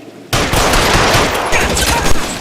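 Loud rapid gunfire from the video game L.A. Noire bursts in suddenly after a brief lull, a dense close volley of shots that continues to the end.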